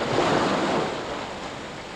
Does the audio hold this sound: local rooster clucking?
no